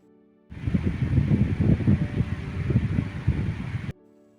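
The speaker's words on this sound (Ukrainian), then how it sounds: "Дослід 4. Вентилятор." An electric fan's low, fluttering whoosh of moving air with a soft hum, rising suddenly, running steadily for a few seconds, then stopping.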